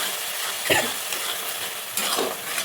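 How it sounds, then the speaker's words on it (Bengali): Spice paste sizzling in hot oil for a Bengali lote (Bombay duck) fish dish, with a steady fry hiss and a couple of brief scraping stirs of a utensil in the pan. "এটা একটু কষবো যতক্ষণ না তেল ছাড়ছে।"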